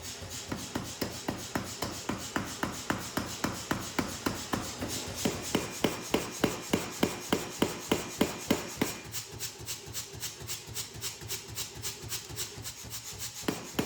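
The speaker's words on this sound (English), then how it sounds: "Giving the blade blank one final pass under the power hammer" A power hammer strikes a Damascus knife blade blank forged from car shock absorbers, a rapid, steady run of repeated blows up close that speeds up slightly toward the end, with no talking.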